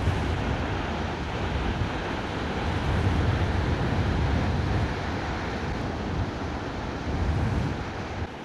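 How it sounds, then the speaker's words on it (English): Wild, windswept ocean waves on the Pacific coast roar as a steady, loud broadband surf wash with wind buffeting the microphone, swelling slightly near the middle and end, with no voices. "To see the wild, windswept ocean waves, a very dramatic sight to experience."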